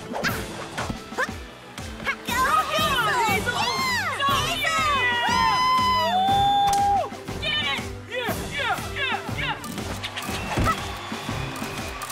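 Cartoon hamsters cheer at a gymnastics competition: a loud, lively crowd of high squeaky voices shouting and whooping over background music for most of the stretch.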